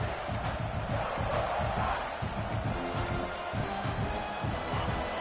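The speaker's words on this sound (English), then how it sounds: "listen to this crowd noise. This stadium is vibrating." A dense, roaring stadium crowd at a college football game fills the space continuously, a loud wash of many voices yelling and cheering without letup.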